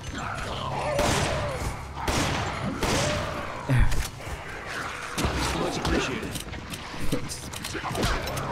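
Revolver shots in Resident Evil 5 ring out as several loud, sharp bangs spaced about a second apart, mixed with game clatter and thumps and overlapped by talking voices.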